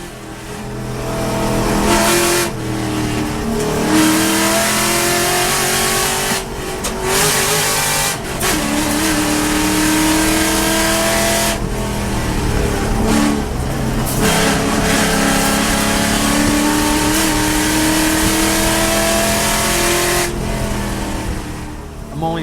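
A car laps a race track with upgraded brakes, its engine loud and close, revving hard and dropping off under braking in repeated cycles, with faint tire noise and no talking.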